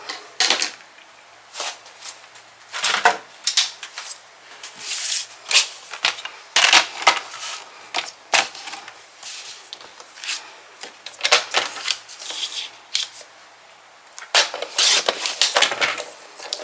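Paper being cut to size for a waterfall album, heard as soft, close, irregular snips and rustles with quiet pauses between, faint overall.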